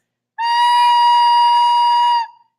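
A single sustained recorder note sounds with a breathy, slightly off timbre, as if a hole is not fully covered, held steadily for about two seconds.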